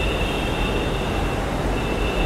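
A Jaipur metro train at the station, a continuous loud roar and rumble of the train with a faint high whine above it, no one speaking.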